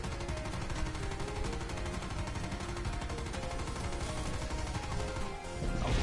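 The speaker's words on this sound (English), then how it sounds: "I'm just gonna take the time to just shoot this zombie" Rapid, continuous gunfire aimed at a zombie in a Call of Duty Cold War zombies mode, dense repeating shots over a busy game backdrop, swelling louder at the end.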